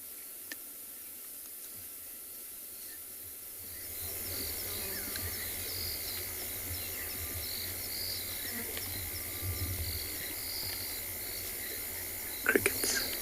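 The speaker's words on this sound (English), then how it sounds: "You can hear the frogs calling now." Frogs call at night in the South African bush, a faint, repetitive pulsing chorus over steady insect trilling. Soft, low murmuring sounds in the background.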